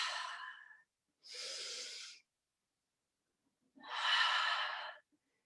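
Three slow, audible breaths come in a calm rhythm during a yoga stretch, each a soft airy exhale or inhale close by, separated by quiet pauses.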